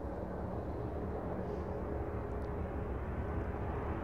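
Jet airliner on pushback in the video game Airport Madness, a steady broad engine rumble and hiss that holds at an even level throughout, with no talk.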